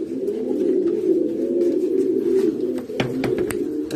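Breeding pigeons, including a mosquea hen, coo in low, steady throaty rolls that fill the loft continuously, with a few sharp clicks and taps near the end.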